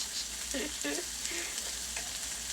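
Meatballs frying in a pan, a steady close sizzle with a few soft scraping and tapping sounds as they are flipped.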